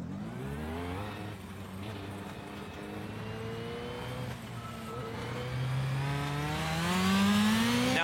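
Race car engine on a track, droning steadily as it drives laps, its pitch sliding up and down through gear changes and swelling louder as it accelerates near the end.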